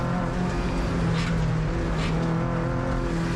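Turbocharged Mazda MX-5 driven flat-out around Sydney Motorsport Park's South Layout, engine droning loud and steady at high revs with brief shifts in pitch as the car works through the tight corners.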